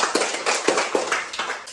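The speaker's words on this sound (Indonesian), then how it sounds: "Tepuk tangan untuk kita semuanya." Small class in a teaching practice lesson clapping hands, a soft, uneven scattering of individual claps at close range with no voices over them.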